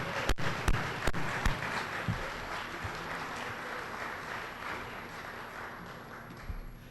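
Applause for the catering staff at an awards dinner, a broad wash of clapping that starts strong with a few sharp claps and stays steady for about seven seconds.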